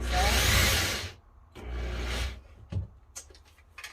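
Wood screws are driven into wood with a power driver while closet storage is built: a long, loud whirring burst, then a second shorter run, followed by a few brief clunks and handling knocks.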